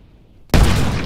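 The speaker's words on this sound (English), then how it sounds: "the gas flows out and ignites immediately, causing a violent explosion, a so-called boiling liquid expanding vapor explosion, or BLEVE" A steel gas cylinder ruptures in a boiling liquid expanding vapor explosion, a sudden loud broadband blast that breaks a quiet background and then roars on as a sustained rush of burning gas.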